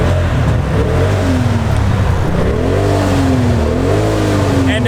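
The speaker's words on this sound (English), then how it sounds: "And a freaking turbocharged engine in the back." A turbocharged rear-mounted car engine revs loudly and close, its pitch rising and falling in repeated sweeps over a constant rumbling drone, with no speech.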